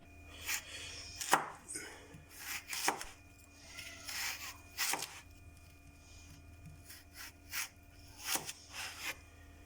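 A knife slices a carrot on a cutting board with a dozen sharp, quiet chops at an irregular pace, each a crisp tap against the wood.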